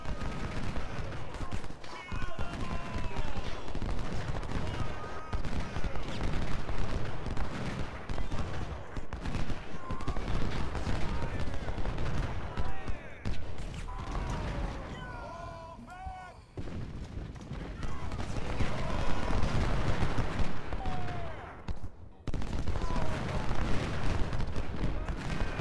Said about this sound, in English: It looks like the only ones engaging are, you know, the artillery, that's it.